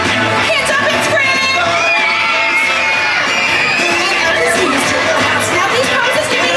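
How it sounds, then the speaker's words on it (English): A crowd screams and cheers with hands raised, a loud, sustained wall of shouting and whooping voices that holds steady throughout. "Hands up and scream!"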